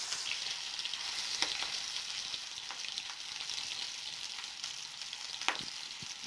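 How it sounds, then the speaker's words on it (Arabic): Floured chicken pieces crackle and sizzle steadily in hot oil, a dense continuous fry with a few sharper pops, heard up close with no voices. "نحطوهم في الزيت ساخن."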